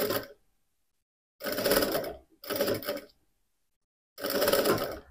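Sewing machine stitching teddy bear backpack pieces together: three bursts of fast, buzzing mechanical stitching, each lasting about a second, separated by silent pauses.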